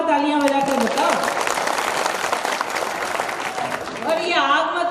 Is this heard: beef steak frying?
no